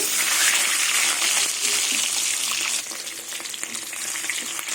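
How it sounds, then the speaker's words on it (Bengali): Duck eggs frying in hot salted mustard oil, a steady loud sizzle with crackling spatter throughout, easing slightly partway through; no talking. "ডিমগুলো লাল লাল করে ভেজে নেব"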